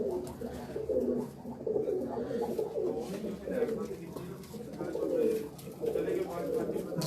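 Breeder pigeons in a loft coo in soft, repeated rolling calls that overlap each other, with a voice talking now and then.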